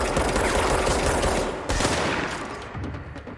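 Dense, loud shotgun blasts from the video game Control, a rapid barrage of overlapping booms with a brief dip partway through before firing resumes.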